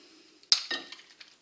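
A utensil clinks sharply against a dish while meatloaf ingredients are mixed, one bright knock followed by softer scraping and a few faint taps, close and alone.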